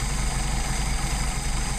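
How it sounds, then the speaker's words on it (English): A Mercedes 190SL engine with Solex carburetors idles during carburetor adjustment, a steady, even mechanical drone that stays loud and close throughout with no talking. "adjust that in and out and listen for the engine to stumble"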